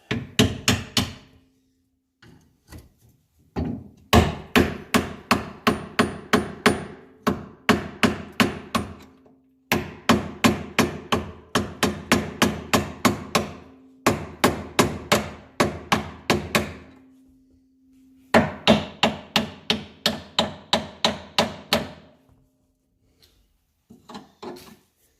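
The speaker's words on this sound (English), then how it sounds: "I used a hammer and a screwdriver" Metal hammer blows drive a screwdriver to knock bolts out of a fiberglass-bodied MG replica, coming in long fast bursts of sharp close strikes separated by brief pauses.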